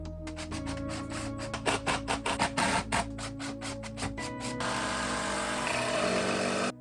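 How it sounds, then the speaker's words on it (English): A drill bores through a wooden stair step into the base, a steady motor whine with stuttering bursts as the bit bites, then a smoother, louder run to the end, close and alone. "I can drill through the inside of this into the base"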